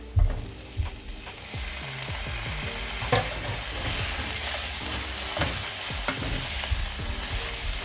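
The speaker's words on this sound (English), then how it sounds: "Now I'm going to go in with my chopped up peppers." Chopped peppers sizzling in a hot pan for jerk shrimp rasta pasta, a steady close frying hiss with repeated scraping stirs and a few sharper clinks of the utensil.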